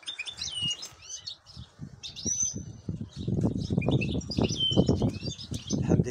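Goldfinches chirp at a nest with their chicks, with bright high twittering calls and trills above soft low rustling and fluttering close by.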